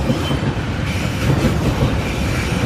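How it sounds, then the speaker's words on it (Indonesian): Two trains passing close by on a railway line, a loud continuous rumble and clatter of wheels on rails filling the whole stretch with no talk. "Double kereta datang."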